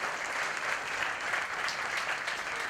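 A crowd at a Gujarati comedy and folk programme in Mumbai gives steady applause to welcome a mimicry artist, a continuous, even patter of many hands heard at a moderate distance for nearly three seconds.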